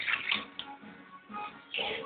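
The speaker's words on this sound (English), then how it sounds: "Add some chopped tomatoes and a little bit of water to the mix." Water splashes into a pan of simmering veggie curry with chopped tomatoes, a soft brief pouring and gurgling, close but quiet.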